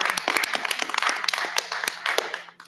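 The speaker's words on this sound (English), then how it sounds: "Yes, please give a round of applause to our students." An audience at a school board meeting applauds students with a short burst of dense, moderately loud clapping that tapers off at the end.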